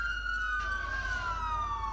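Police car siren in a video game role play as a patrol unit, a steady wailing tone sliding slowly down in pitch, loud and close, running continuously throughout with no talk over it.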